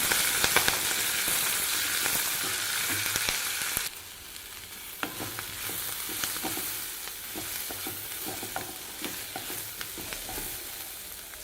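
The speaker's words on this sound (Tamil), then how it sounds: "இதுலேயே பச்சை மிளகாய் கருவேப்பிலை போட்டு நல்லா வதக்கிக்கலாங்க" Green chilies and curry leaves sizzle and fry in hot oil in a pan, with a loud hiss at first that settles into softer crackling and occasional stirring scrapes.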